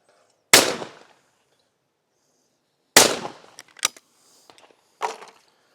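Shotgun blasts at clay targets during a Sportrap round, two loud sharp reports about 2.5 seconds apart, then a few quieter clicks and a third shot, with no one talking.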